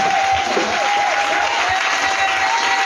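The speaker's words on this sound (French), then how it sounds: "Acclamons Jésus." A church congregation applauding during a testimony service, dense, sustained clapping from a crowd filling the room, loud and even for about three seconds, with a steady high tone running beneath it.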